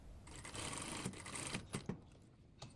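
A sewing machine stitches the side seam of a shift dress in brief, fairly quiet bursts with small clicks between them, close to the mic.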